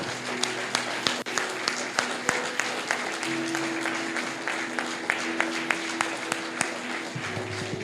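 Church congregation applauds steadily with hands raised in a continuous wash of clapping, sharp louder claps standing out and a low sustained tone underneath throughout.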